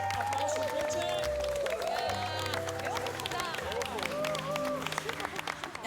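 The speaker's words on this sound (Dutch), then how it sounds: "Applaus voor Bridget." Studio audience applause on the Dutch TV game show Wie is de Mol, a busy clatter of clapping under voices and sustained musical tones that carries on throughout.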